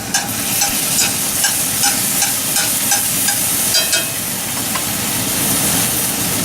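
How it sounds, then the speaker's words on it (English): Fresh garlic sautés in a hot skillet with a steady, loud sizzle and frequent small crackles and pops, heard close and on its own with no talking. "garlic sauteing away"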